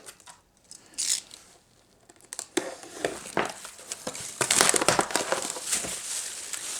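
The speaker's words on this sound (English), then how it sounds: "let's cut it open and find out" Cardboard box being cut open, irregular close scraping, tearing and crinkling rasps that start sparse and become denser and louder, with no one talking.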